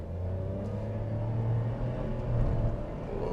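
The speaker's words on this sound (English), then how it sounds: "in the sport mode, it's much more aggressive. It's just throws at you everything it got." A Perodua Ativa with a CVT revs in sport mode, heard from inside the cabin as a continuous low engine drone with a steady rumble, holding pitch and swelling slightly without any talk.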